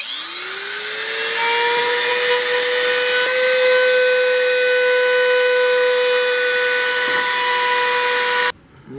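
A router with a bearing-guided bit rounds over the edge of a pine 1x6 board, giving a loud, steady high-pitched whine that holds nearly nine seconds before cutting off abruptly at the end.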